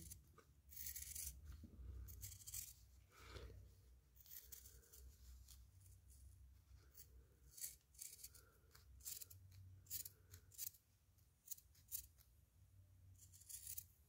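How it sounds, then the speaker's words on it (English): Scissors trimming excess fabric from the sewn waist of action figure pants for a custom Mezco-style Knightmare Batman figure, a series of quiet crisp snips and rustles of cloth, close and faint. "we'll also cut off the excess fabric"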